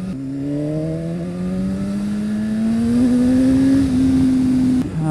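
A BMW S1000RR motorcycle accelerating hard along a coastal road, its engine note climbing steadily through a gear before a brief dip, loud and close with wind rush and no talk.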